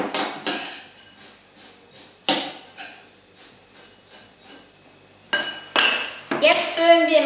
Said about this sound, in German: Und jetzt kommt noch 40 Gramm geschmolzene Butter mit dazu. Und das wird dann schön verrührt.